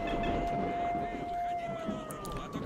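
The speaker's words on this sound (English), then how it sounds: "Is there a way for me to turn off the siren?" A wailing siren sounds in the video game S.T.A.L.K.E.R.: Shadow of Chernobyl, holding a steady, slowly falling tone over a dense rumble of game ambience, continuous and fairly loud throughout.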